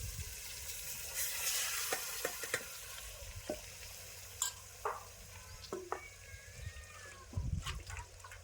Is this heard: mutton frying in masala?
yes